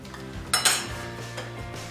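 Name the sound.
plates being taken out and handled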